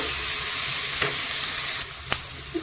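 Sweet potato cutlet mixture with chopped chilli fries in a pan, giving a loud, even, continuous sizzle with a couple of faint utensil clicks.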